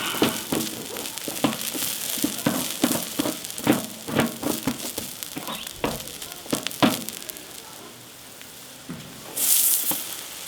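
Onions sizzle on a braai grill, a steady crackling fry broken by irregular pops and spits. It is moderately close and fades softer toward the end.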